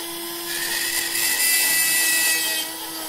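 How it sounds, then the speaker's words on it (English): A small 2.5mm drill whines steadily at high pitch for a few seconds, biting into a plastic gear with a slight rise in loudness midway. "And again with a 3mm drill."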